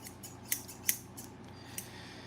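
Freshly sharpened scissors snip close by in a sharpening shop, a few crisp, quick metallic cuts spaced irregularly over a low steady background hum, with no talking.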